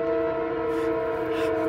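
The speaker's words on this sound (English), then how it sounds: "It's a choo-choo train." A loud, sustained whistle or horn from a toy-like choo-choo train holds steady pitches close by, filling the moment without talk.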